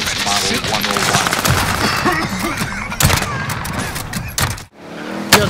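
Rapid bursts of automatic gunfire from a Warzone match stack into dense, loud volleys. A sharp crack near the end cuts through, and a player's voice mixes in with the shooting.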